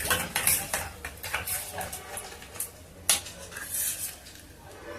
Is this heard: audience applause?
no